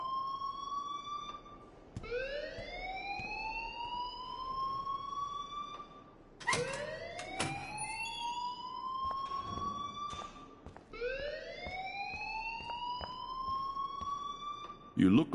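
A rising, repeating alarm siren wails in the Life is Strange video game, each sweep climbing steeply then holding before restarting, three cycles in a row, loud and close with faint background noise.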